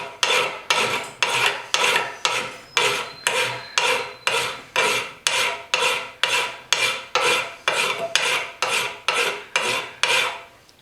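A hand file rasps back and forth across a stripped screw head in about twenty regular, evenly paced strokes, each a loud close scraping burst with short pauses between.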